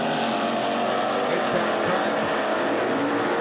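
Jim Hayes launching his Vega drag car at Beech Bend Raceway Park, a loud, full-throated engine roar at the line with a few sharp low bursts as it leaves.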